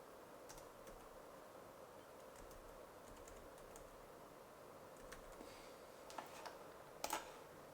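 Typing on a computer keyboard while entering an ID number, a soft steady run of faint clicks with a few louder taps near the end, no voices.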